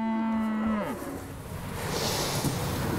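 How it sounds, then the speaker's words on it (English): A dairy cow on a farm gives a single loud, drawn-out moo that drops in pitch at the end, followed by a quieter background of farm noise. "Another farmer bought Lena and Sabine, his last two dairy cows of a herd that once numbered 35"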